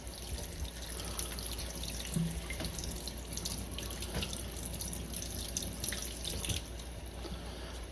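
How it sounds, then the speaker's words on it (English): Warm tap water runs steadily into a sink while a coin is rinsed under the stream, a close, constant splashing hiss with a few small knocks and no talk. "Then wash it in warm water."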